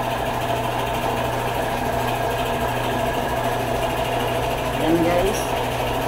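A spray painting machine runs on a plywood door with a steady, loud mechanical drone that holds constant throughout, while someone speaks briefly over it.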